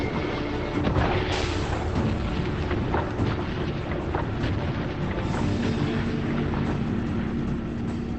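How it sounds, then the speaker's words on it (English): Kinesium charge explosion in the video game I Expect You To Die 3, heard as a heavy, sustained rumbling blast with crackling bursts and low booming surges that stay loud and continuous, with no voices. "that explosion should do the trick"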